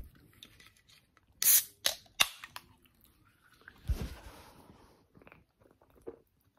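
Crunchy cookie cake being bitten and chewed up close, a few sharp loud crunches followed by softer, quieter chewing in a mostly quiet room.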